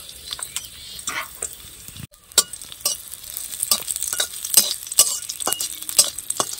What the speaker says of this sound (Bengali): কয়টা কিশমিশ ভেজে নেব।